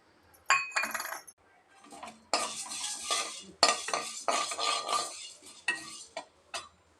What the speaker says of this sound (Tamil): இப்போ நம்ம துவரம்பருப்பை ட்ரை ரோஸ்ட் பண்ணி எடுத்துடலாம்.